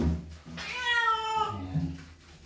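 A wet cat being bathed in shampoo lets out one clear, drawn-out meow up close, with a shorter low mew trailing after it.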